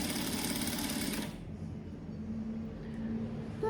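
A sewing machine runs steadily, stitching bias binding onto fabric, a close rapid mechanical whir that stops abruptly after about a second and a half, leaving a low background hum.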